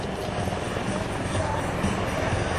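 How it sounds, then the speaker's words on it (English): At a US Air Force joint force demonstration in Alaska, a helicopter moves in, producing a dense, steady rumbling roar at moderate distance throughout the short stretch. "And now let's watch the helicopter moving in"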